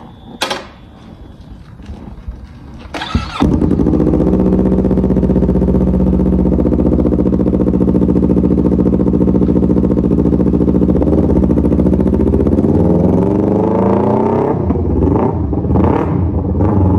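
A few clunks and a starter whir lead into a motorcycle engine catching and idling loudly, then revving and pulling away with a rising, steady drone.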